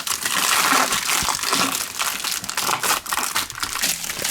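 A mailed parcel holding an electrical item is torn open from its wrapping of tape and styrofoam, giving loud, close, continuous crinkling, crunching and tearing with no talking.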